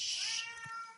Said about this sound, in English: He's a very vocal cat.